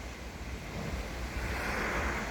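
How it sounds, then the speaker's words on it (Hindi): Rainwater cascades down hillsides in Mumbai, Maharashtra, during light rain, a continuous broad rushing roar of falling water, steady and fairly loud with no voices. "अभी इधर हल्का हल्का बारिश हो रहा है और देखिए पहाड़ से सब पानी गिर रहा है।"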